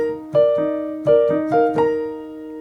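A piano plays a short, sparse phrase from a song: four clear struck notes and chords ringing out one after another, close and alone with no talking.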